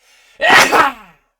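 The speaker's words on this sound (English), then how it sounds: "hold on, I gotta sneeze." A single close, loud sneeze bursts out suddenly after a brief quiet breath, its sharp onset fading into a short trailing exhale; no talk accompanies it.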